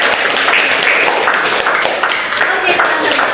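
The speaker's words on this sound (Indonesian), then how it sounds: "sebagai akademis tepuk tangan untuk teman-teman" A lecture audience of university students applauding their classmates, a dense steady wash of many hands clapping throughout, fairly loud and close, with no pauses.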